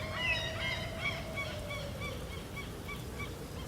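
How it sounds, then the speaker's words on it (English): Flock of geese honking as they fly away, repeated calls fading slightly over a steady outdoor rush. "And the birds fly away."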